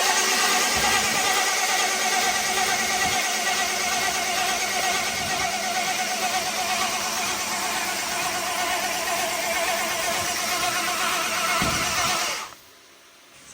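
A newly installed car engine is cranked and idles, a loud, steady mid-pitched drone for about twelve seconds with uneven pulses, then cuts out abruptly, leaving near silence.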